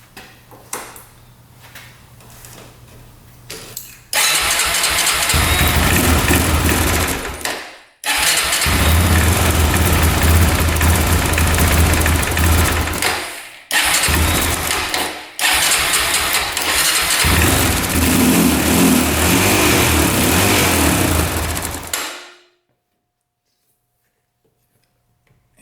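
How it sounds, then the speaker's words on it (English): Engine of a Honda 400EX quad cranks and catches, then idles and revs in loud, close bursts separated by brief cutoffs, before shutting off into silence; the machine has a bogging problem tied to a failing regulator rectifier. "we rev this engine up"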